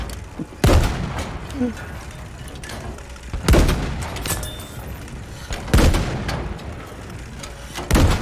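Staghound T17E1 tank cannon fire in Battlefield 5, four loud booming shots spaced a couple of seconds apart over rumbling battle noise, with voices talking in between.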